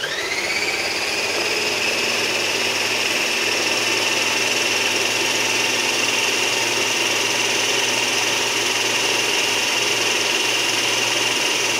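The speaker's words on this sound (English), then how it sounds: "I'm going to put the lid on the processor. It's going to get loud." A food processor purees a cream cheese and pumpkin mixture for keto pumpkin cheesecake cupcakes. Its motor whines loudly and steadily for the whole stretch, close up and uninterrupted, with no voices over it.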